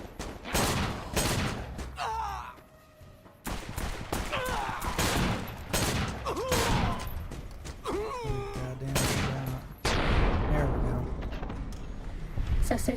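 Rapid gunfire bursts from the video game Fallout New Vegas crackle through the scene in repeated volleys, loud and close, with a voice talking over the shooting.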